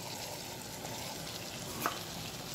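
Boiled banana flower with potatoes and spices frying in a pan, a low continuous sizzle with one faint stirring knock, quiet and close.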